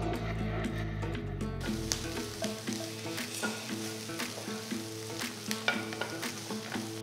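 Radish, onion and small coconut pieces stirred in a pan for a radish chutney, a continuous sizzle with frequent clattering spatula scrapes, close, over a low droning hum that cuts out after the first two seconds.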